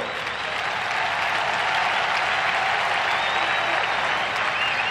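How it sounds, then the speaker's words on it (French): A large crowd applauds steadily and loudly at a pastor's memorial vigil in a stadium, the clapping dense and unbroken throughout. "Acclamons très fort."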